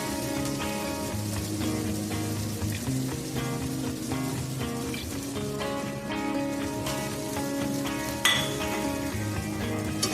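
Egg chicken noodles are tossed in a hot pan with a ladle, a steady close sizzle running under repeated metallic scrapes and light clinks of the utensil against the pan.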